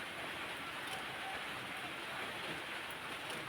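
Rain falling at midday in Thailand, a steady, even hiss of dense rainfall continuing without pause, soft and constant throughout.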